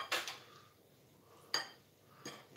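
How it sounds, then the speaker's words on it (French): A spoon clinks against a bowl while stirring cocktail sauce, three short separate knocks with quiet gaps between them, close by and moderately soft. "Donc on va se mélanger ça gentiment."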